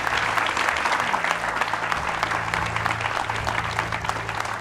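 Studio audience applause on an Indonesian celebrity talk show, a steady wash of many hands clapping at moderate level with a faint background hum and no talk over it.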